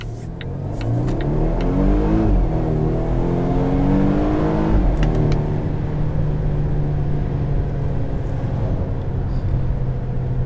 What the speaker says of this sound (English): Leave it in drive and give it an acceleration.